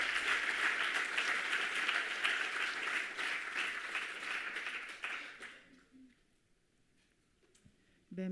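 Audience applause at a conference plenary on parenting and mental disorders, sustained dense clapping that tapers off after about five seconds into near silence, with a brief sound at the very end.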